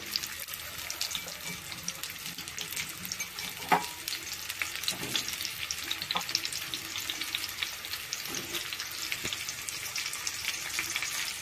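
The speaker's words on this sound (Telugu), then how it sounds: "ఆయిల్ హీట్ ఎక్కింది కాబట్టి కాకరకాయ ముక్కలు వేసేద్దాం." Bitter gourd pieces fry in hot oil with a loud, steady crackling sizzle, close up, with occasional stirring scrapes and clinks over the constant hiss.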